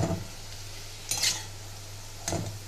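Fried potatoes in a pan on a home stove give a low, steady sizzle, broken by two or three short scraping stirs of a spatula against the metal, with no one speaking.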